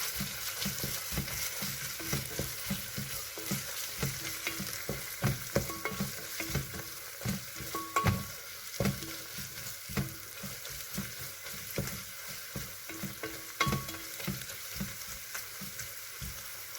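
Ginger garlic paste frying in a pan for a vegetable biryani, a steady close sizzle with stirring scrapes and soft clicks throughout, no voices.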